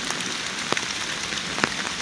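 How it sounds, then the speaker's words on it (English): Steady rain from hurricane remnants patters through woods at Ball's Bluff battlefield in Leesburg, Virginia, a constant wet hiss broken by a few louder nearby drips or taps, with no speech. "trekking through the woods on a rainy day."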